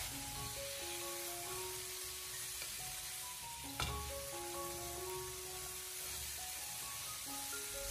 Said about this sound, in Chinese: 再添加少许的八角、桂皮、香叶、干辣椒，然后再继续的将它不停的小火翻炒， 将大料的香味翻炒出来。